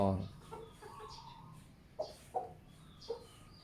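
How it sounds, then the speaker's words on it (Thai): Chickens cluck as the flock is let out in the morning to feed on young grass: a few short, fairly close clucks at irregular intervals over low background noise. "ยามเช้ากับ ภารกิจเลี้ยงไก่ เอาออกมากินกันใหญ่เลย"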